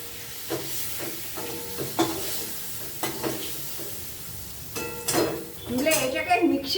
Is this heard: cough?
no